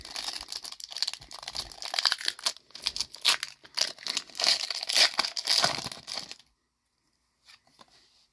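Crinkly plastic wrapper of a Pokemon Silver Tempest booster pack torn and crumpled open up close, a dense run of rustling and ripping bursts that stops abruptly, leaving near silence with a faint rustle.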